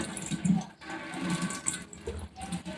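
Water that had chilli pieces soaking in it for an hour being poured into a spray bottle, a short, close, uneven splashing and trickling of liquid with small pauses and no talk.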